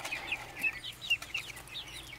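Backyard chickens, including a Sussex, cluck quietly inside a chicken house alongside a turkey, with soft, high, irregularly spaced clucks heard from a short distance and no talking.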